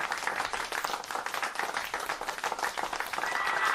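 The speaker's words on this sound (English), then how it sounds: "The baby is clapping" A baby claps its hands in a quick, steady patter of close, bright claps that runs through the whole stretch with no pause.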